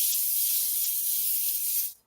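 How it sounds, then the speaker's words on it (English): Cooking spray hisses in one continuous, close, loud burst onto foil in a casserole pan for a chicken biscuit and gravy dish, lasting nearly two seconds before cutting off abruptly. "But I'm gonna spray it."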